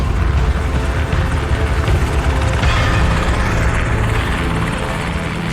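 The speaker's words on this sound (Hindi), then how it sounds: "दूसरा हेलीकॉप्टर हवेली के ठीक ऊपर आकर आसमान में ठहर जाता है।" A modified Black Hawk air assault utility helicopter hovers low overhead, its rotor and engine making a loud, steady, close thudding roar that fills the air without pause.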